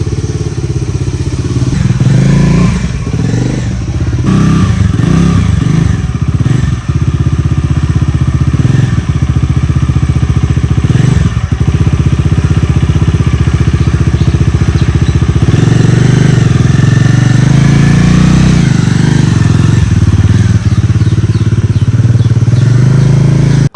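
A Bajaj Dominar 400 motorcycle's 400 cc single-cylinder engine idles with a loud, close, throbbing low thump, broken by several sharp revs and blips before settling back to a steady idle; no one speaks.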